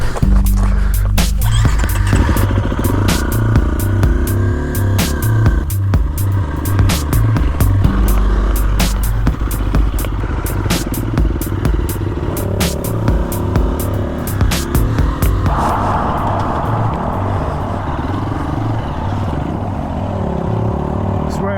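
Dirt bikes, among them an '86 Honda CR, a Suzuki, a Husqvarna and a KTM, ride an east-side trail, their engines droning steadily up close with rattles and clatter throughout.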